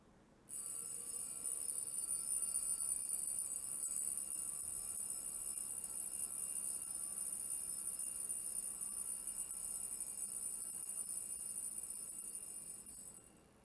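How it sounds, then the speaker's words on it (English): A Jaeger-LeCoultre Master Memovox mechanical wristwatch alarm ringing, a steady, thin high-pitched buzz that starts suddenly and continues unbroken for about thirteen seconds before stopping. "Okay, there it is. That's the alarm."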